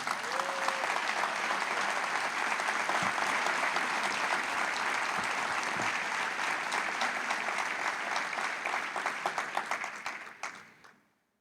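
Sustained applause from a large church congregation, dense and steady, gradually fading out at the end.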